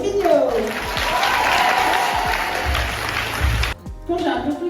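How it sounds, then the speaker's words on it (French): A live audience claps loudly and steadily for a few seconds at a business show in France, a broad dense wash of applause that briefly cuts out near the end before resuming. "Merci de faire un tonnerre d'applaudissements pour Caroline Mignot."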